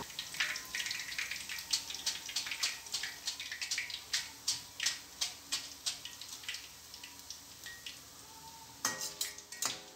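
Boondi drops fry in hot oil with a bright, crackling sizzle broken by repeated soft bursts and pops, followed near the end by a few metallic clinks of a ladle against the pan.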